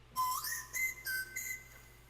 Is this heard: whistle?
yes